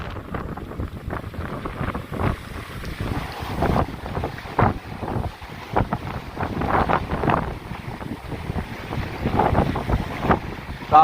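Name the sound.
strong wind blowing outdoors while fishing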